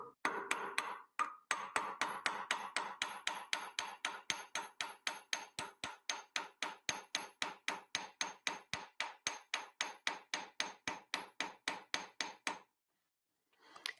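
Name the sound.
hammer tapping metal to straighten it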